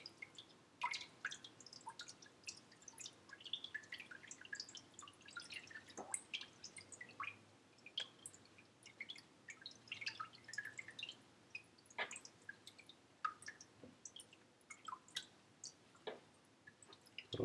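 Quiet, irregular drips and small splashes as chicken stock drains through a strainer, scattered droplets falling close by against near silence.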